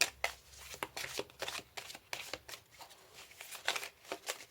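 Tarot cards being shuffled and drawn during a reading, a close, continuous run of papery riffles, slaps and flicks in uneven bursts, fairly quiet with no talking over it.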